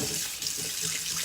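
Hot water running from a kitchen tap to wash a cast iron pan, a steady close hiss of flowing water, continuous and alone.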